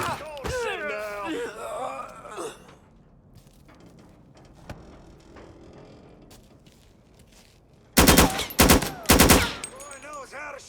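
Bursts of video-game gunfire in Mafia 3, loud and close, with a dense volley of rapid shots packed near the end after quieter stretches where game characters speak and shout.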